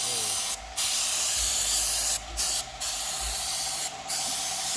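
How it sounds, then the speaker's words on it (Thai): A chemical engine cleaner is sprayed around a car's engine bay in four short, sharp hissing bursts. A steady low background hum continues between them. "ฉีดเลยนะครับ"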